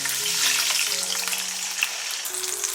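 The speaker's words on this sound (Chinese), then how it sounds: "淋入刚刚调好的酱汁，" Seasoned sauce poured into a hot pan over frying squab with side vegetables, giving a bright, close hissing sizzle with light bubbling and spattering, no voices.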